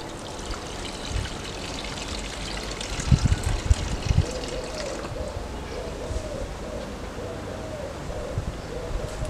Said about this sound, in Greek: Θα προσθέσουμε βραστό νερό να τα κάλυψει.